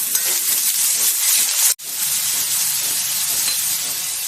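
Loud, continuous sizzle of ginger garlic paste frying in oil, interrupted by a brief silent gap before the crackling resumes.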